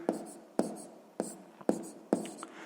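A pen writes out a sixth-grade math solution on paper in steady rhythmic bursts, five scratchy strokes roughly half a second apart, close and fairly quiet.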